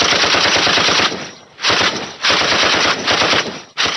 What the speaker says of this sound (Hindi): फायरिंग की आवाज से सब लोग उस ओर देखने लगे